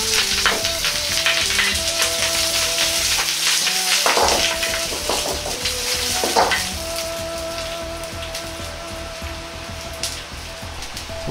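Steady loud sizzling of halved leek frying in hot oil in a wok, crackling and spitting continuously, with a brief rustle of stirring partway through.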